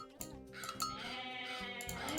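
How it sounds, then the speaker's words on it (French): Goats bleat in a busy Age of Mythology game scene: a few short, nasal bleats rise over steady background music and game effects, close and moderately loud. "Des chèvres, c'est parfait ça"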